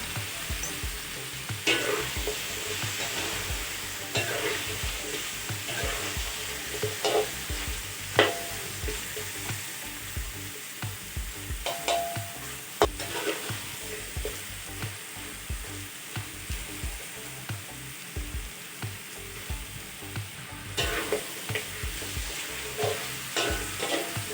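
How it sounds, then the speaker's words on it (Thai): Seasonings for pork ribs with soybean paste, with fish sauce and light soy sauce, stir-fry in a hot pan for a Thai dish. The clip carries a steady sizzle with repeated scraping stirs throughout, fairly close and moderately loud, and no talking. "พอเราผัดเครื่องปรุงหอมได้ที่นะคะ"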